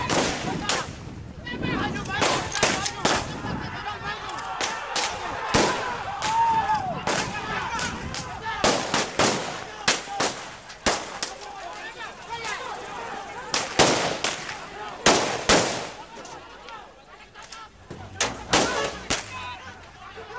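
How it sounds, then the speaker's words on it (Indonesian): Sharp cracks of police gunfire shot into the air ring out repeatedly, some in quick clusters, amid protest crowd noise and shouting. "Polisi membubarkan massa dengan mengeluarkan tembakan ke udara"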